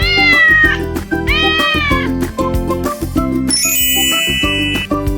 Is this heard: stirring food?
no